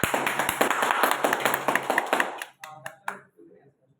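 Audience clapping at a marketing-plan motivational event, a burst of sharp claps that thins out and fades to a few scattered final claps.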